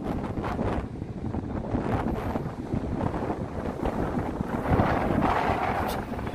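Strong wind buffets the microphone at a coastal lookout on Biyangdo, a small islet off Udo, producing a loud, continuous roar and rumble with gusty swells and no voices.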